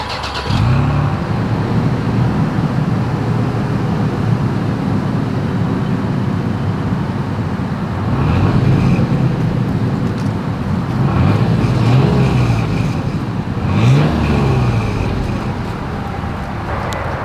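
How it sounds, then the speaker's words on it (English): A 2022 Toyota 4Runner SUV engine rumbles steadily up close at the exhaust, then revs up several times with rising roars and exhaust burble. "As always, here is that exhaust clip."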